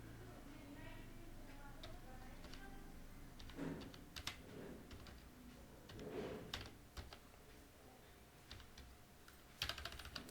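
Quiet, irregular clicks of a computer keyboard as text is typed into Tally accounting software, with someone speaking softly in Hindi throughout.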